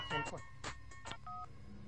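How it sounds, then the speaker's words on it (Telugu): A short electronic phone tune of several bright beeping tones in quick succession, fairly clear against a faint background. "అది సెల్ ఫోన్ రాగం బావా."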